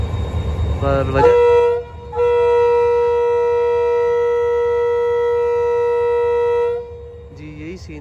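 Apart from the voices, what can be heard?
train starting to move out of Malir railway station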